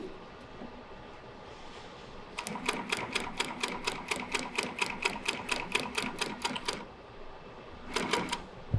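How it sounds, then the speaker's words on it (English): An industrial walking foot sewing machine stitching through material in a fast, even run of sharp mechanical ticks, then a pause and a brief second burst, close and fairly quiet. "Being that this is a walking foot machine, the machine itself will pull the material through."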